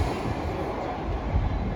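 Two coupled Class 387 electric trains pass at Acton Mainline on the Great Western Main Line, a steady close rumble of wheels and traction noise with no voices.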